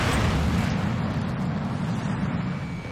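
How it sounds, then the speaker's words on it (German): A missile strike in the flight combat game Ace Combat: Assault Horizon bursts into a fireball, a loud, sustained roaring rumble with a deep low end that holds steady and fades only slightly. "lassen ihn Raketentreffer in einem Feuerball mit herumspritzendem Öl"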